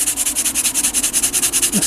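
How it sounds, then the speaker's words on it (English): Rapid rhythmic scrubbing of a sanding pad on the rusted windscreen frame of a Lexus LS 400, about ten strokes per second, close and even in a continuous back-and-forth rasp. "I'm gonna knock it down with my sanding pad"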